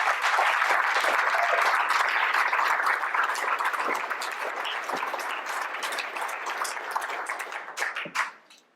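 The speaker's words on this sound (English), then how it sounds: "Let's give another round of applause" Applause from a premiere Q&A audience at a cartoon art museum, a full burst of clapping that thins out and fades to a few last claps near the end.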